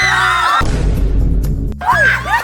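A festival crowd screams loudly in unison when prompted, a dense roaring wall of voices lasting about a second, bracketed by amplified talk over a PA.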